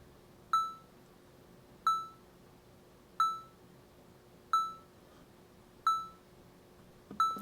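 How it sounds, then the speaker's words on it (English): Synthesized snare drum built in the Massive synth for an electro drum loop, playing six evenly spaced, tonal short hits with quick decay, about every 1.3 seconds, alone and fairly quiet. "So that'll just give us a snare on beats 2 and 4."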